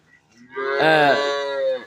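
A single cow gives one clear, close, drawn-out moo at a cattle sale in Bangladesh, standing alone against a quiet background.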